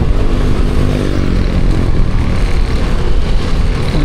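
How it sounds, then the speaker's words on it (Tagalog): A motorcycle called Blacky carries a rider along the road, its engine and wind roar loud, dense and steady throughout the ride. "Gamit po natin yung motor ni Bayaw,"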